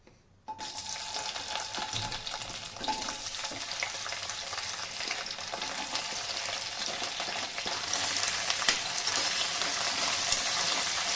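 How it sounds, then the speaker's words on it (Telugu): Okra pieces fry in a pan for a Telugu bendakaya masala curry, giving a steady close sizzle with occasional stirring scrapes that grows a little louder toward the end, with no voices. "ఇప్పుడు ఇందులోకి బెండకాయ ముక్కను తీసుకొని మంచిగా ఫ్రై చేసుకుందాం."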